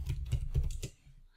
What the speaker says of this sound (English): Let's start typing the class.